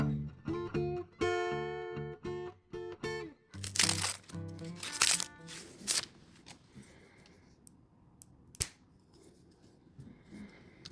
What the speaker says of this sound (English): Stirring the creatine with chopsticks using the vortex method.